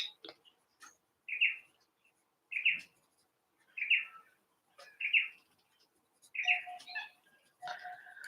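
A cockatoo calls from outdoors in a series of short, spaced chirping squawks, fairly faint and distant over near silence, with soft ticks in between.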